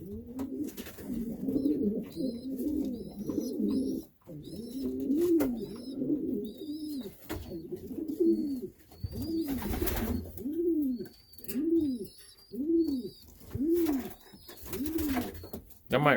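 A racing pigeon coos in repeated soft, rolling phrases close by, the low throaty calls recurring steadily with brief pauses, while other birds twitter faintly in the background.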